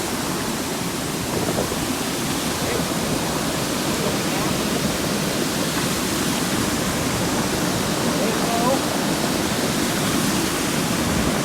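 Water pours steadily over an old retaining dam on the Spring River in Arkansas, a loud, continuous broadband rush that stays even and close throughout, with no talk over it.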